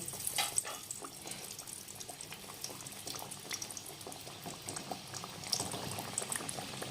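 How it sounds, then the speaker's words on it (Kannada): Potato-stuffed kachoris fry in a shallow layer of hot oil over a medium flame, giving a steady, close crackling sizzle with scattered pops and no talking over it. "ಈಗ ಇದನ್ನು ಒಂದು ನಿಮಿಷಗಳ ಕಾಲ ಮೀಡಿಯಮ್ ಫ್ಲೇಮ್ನಲ್ಲಿ ಫ್ರೈ ಮಾಡ್ಕೋಬೇಕು"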